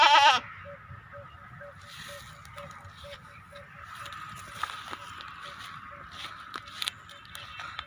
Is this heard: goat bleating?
yes